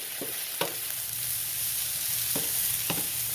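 Cauliflower and vegetables sauté in a pan with a steady close sizzle, broken by several sharp scrapes and clacks of stirring, with no one talking.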